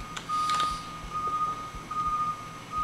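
An electronic alarm in the horror game Mind's Eye keeps beeping in short, evenly spaced high tones, fairly quiet and steady, with a brief brighter burst near the start and no talk.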